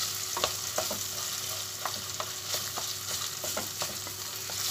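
Pepper paste and tomato fry in a pan for barbunya beans, a constant bright sizzle punctuated by regular scraping stirs of a spoon, with no talking.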